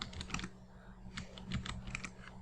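Fast typing on a computer keyboard while working in Figma, close and fairly quiet, with irregular bursts of key clicks separated by short pauses.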